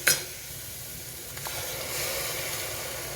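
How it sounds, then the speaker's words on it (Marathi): Tomato puree hits hot chole masala in the pan with a sharp burst of sizzling at the start, then a steady hissing fry continues under a faint stir. "आपण आता याच्यामध्ये टोमॅटोची प्युरी घालणार आहोत."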